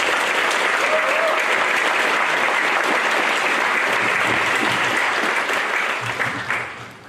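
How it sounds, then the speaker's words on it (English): A school audience at a wind ensemble spring concert and awards ceremony gives steady, full applause for the band members, sustained for several seconds before thinning and fading at the end. "One more round of applause for the All-County Band members."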